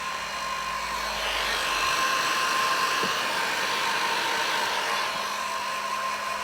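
A heat gun blows steadily and loudly at close range while it heats an embossed acetate tag. The whirring hiss runs unbroken from start to finish, and no one talks.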